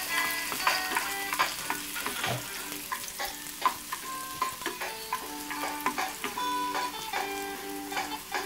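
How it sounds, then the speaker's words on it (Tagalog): Onion and garlic sizzle in hot vegetable oil with a steady crackling fry, broken by clinks and scrapes of a spoon stirring in the pan nearby. "First thing, magsasaute po tayo ng onion and garlic."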